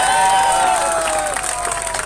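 A crowd claps and cheers loudly and continuously at an outdoor political rally, with a bright cheer carrying over the applause before it begins to fade near the end.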